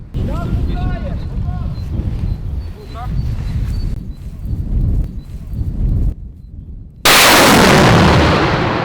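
People talk outdoors, then a sudden, very loud blast from a Grad multiple rocket launcher firing a ranging shot erupts and roars on, drowning everything out.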